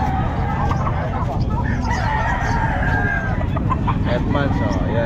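Roosters crow loudly and repeatedly amid clucking chickens at a pet market in Calumpit, close by, with people talking over the birds.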